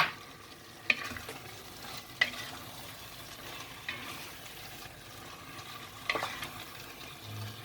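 Okra sautéing with minced meat and squeezed lemon juice in a pan, a soft steady sizzle broken by a few sharp stirring knocks and clatters, close and quiet with no voices.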